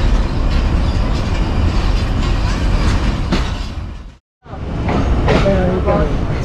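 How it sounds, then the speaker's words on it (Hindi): A train pulls out of Gujrat railway station in Pakistan, a loud, close, continuous rumble of wheels and carriage noise that cuts out briefly in a short gap, then resumes, with a voice speaking over it. "ट्रेन गुजरात रेलवे स्टेशन पहुंची थी और यहां पर एक छोटा सा स्टॉप करने के बाद अभी ये रवाना हो रही है।"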